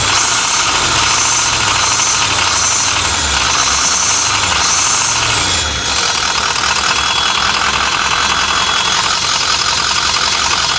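A broken, long-neglected diesel bus engine runs loud and close, a rough knocking idle with rhythmic pulsing surges in the first half, then settles into a steady clattering drone.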